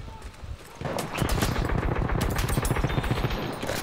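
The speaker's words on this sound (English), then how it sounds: "Oh, I could dig this LMG right here." Light machine gun firing in the Battlefield 1 multiplayer shooter, a loud, sustained rapid burst of automatic gunfire that starts after a brief quieter lead-in and keeps up steadily to the end.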